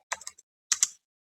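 A command is typed on a computer keyboard: two quick clusters of close, crisp key clicks separated by a brief pause.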